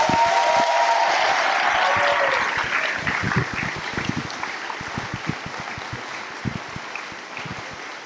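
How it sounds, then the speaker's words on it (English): Town hall meeting audience in an elementary school applauding the Kent Isle Volunteer Fire Department, a full, dense round of clapping that thins out gradually into scattered claps. "would like you all to give a round of applause, is the Kent Isle Volunteer Fire Department"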